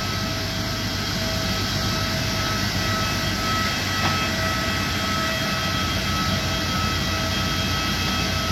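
Steady, loud jet engine drone from a Malaysia Airlines Airbus A330-200 widebody, a continuous broadband roar with faint tonal whine, heard up close and without voices.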